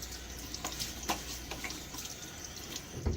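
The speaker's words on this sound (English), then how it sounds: "Get my face wet again." Tap water runs and splashes as a man wets his face at the sink before a shave. Irregular splashes and drips sit close over a steady rush of running water, and no one speaks.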